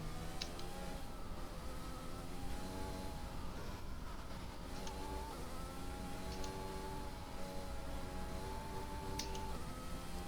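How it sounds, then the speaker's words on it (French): A steady, high-revving engine whine drones throughout with a faint buzzing tone, unbroken and moderately quiet, from a racing car in a video game's Japanese Grand Prix, taken through a corner without full throttle. "Écoutez bien dans ce virage le bruit du moteur."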